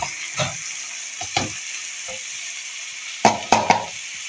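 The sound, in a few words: chana dal frying and being stirred in spice masala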